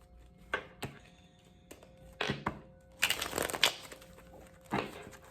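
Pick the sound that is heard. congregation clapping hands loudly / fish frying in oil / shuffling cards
shuffling cards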